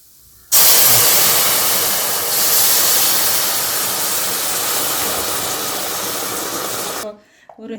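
Pot of sambar with vegetables and dal water boiling hard, a loud broad hiss and sizzle starting abruptly and holding steady for several seconds before cutting off into quieter sounds.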